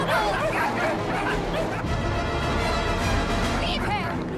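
Puppies yip and whimper in a high-pitched chorus, close and continuous, under a dense wash of other noise.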